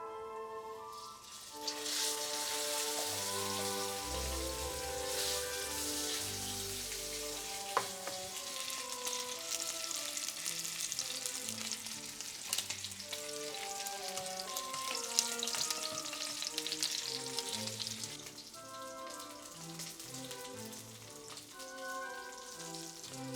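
Steak and shrimp sear in a cast iron pan, giving a steady, crackling sizzle that runs for the whole stretch beneath a melodic music track, with a few sharper pops.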